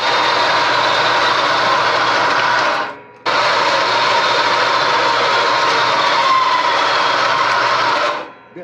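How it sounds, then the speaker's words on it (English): Bandsaw cutting scrap metal stock for a homemade press brake, a loud continuous grinding hiss running through two cuts with a brief pause in between, close and steady with no talk. "So we've got it set up here in the bandsaw."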